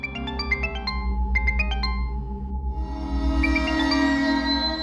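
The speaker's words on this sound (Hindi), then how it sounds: "इतना रात गए आरती जी के मोबाइल पर फोन के करो।" A mobile phone rings late at night in a household scene, a repeating electronic melody of bright tonal notes in bursts over a low background hum, fairly loud and close, with no talking.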